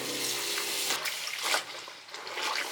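Laundry being rinsed by hand in water aboard a sailing boat, a soft, close sloshing and splashing with a brief louder swirl partway through and no voices.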